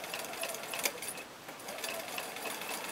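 A Bernina sewing machine fitted with a rolled hemmer foot runs steadily at low volume, a continuous whirring hum with faint mechanical ticks while stitching a rolled hem.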